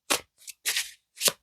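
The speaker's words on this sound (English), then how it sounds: "let's shuffle the new cards" Deck of pink tarot cards being shuffled by hand, four quick crisp riffling bursts in an uneven rhythm, close and fairly loud with silence between them and no talking.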